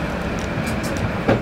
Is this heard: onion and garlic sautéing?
no